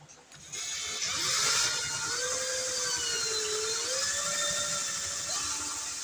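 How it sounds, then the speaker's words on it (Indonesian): A power drill spins a roll of fine sandpaper, starting with a quick spin-up and then a steady high-pitched whine that shifts slightly in pitch as it works, heard alone and fairly close. "amplas yang halus kita gulung, kita masukkan ke dalam bor"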